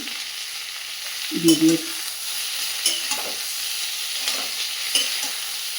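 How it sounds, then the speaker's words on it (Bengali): Vegetables, green chili and fish heads fry in a pan with a steady close sizzle, while a spoon stirs and scrapes now and then and a voice briefly speaks. "আনাজগুলো খুব ভালো করে একটু শুধু ভাজতে হবে, নাহলে খেতে ভালো হবে না।"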